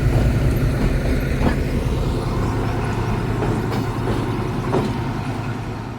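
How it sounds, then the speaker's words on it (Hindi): At Faisalabad railway station a locomotive rolls in to couple onto a waiting express, a steady loud rumble with rhythmic clickety-clack wheel beats over the rails and no voices. "ZCU 26405 ये जी इस ट्रेन को अटैच होने के लिए आ रहा है।"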